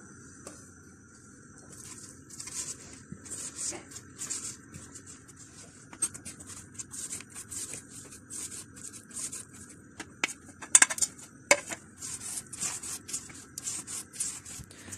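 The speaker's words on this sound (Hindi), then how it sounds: "मक्खन और ऑयल के इस बैटर में थोड़ा थोड़ा मैदा डालते जाएंगे और फोल्ड करते जाएंगे।" Soft scraping and rubbing of a spatula folding flour into a butter and oil cake batter for a carrot almond cake, a repeated close strokes with faint clinks against the bowl and no talking.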